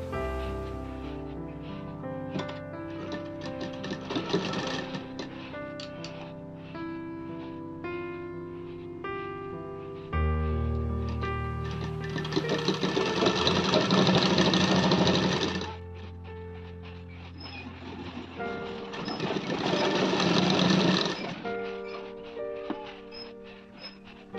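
A sewing machine stitches a folded narrow hem on a baby skirt cut from old denim jeans. The motor whirs in several sustained runs of a few seconds each, separated by quieter pauses with faint handling noises.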